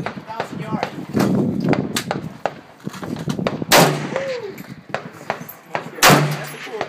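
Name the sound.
AR-15 rifle gunshots fired from the hip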